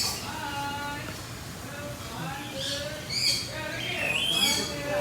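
Parrots at KL Bird Park give sharp, scattered squawks and chirps over a busy outdoor bird-aviary background, moderately near and fairly steady in level.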